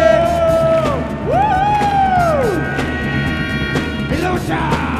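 A crowd at a break dance final battle cheers loudly with whoops and high sliding yells over a dense, continuous roar of voices.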